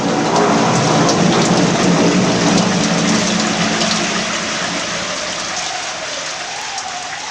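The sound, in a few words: thunderstorm with heavy rain and thunder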